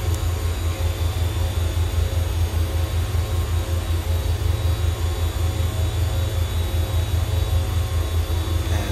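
Twin engines of a Beech Duke BE60 in the FSX flight simulator: a steady, loud engine drone with a low throbbing pulse that holds unchanged throughout, with no talking.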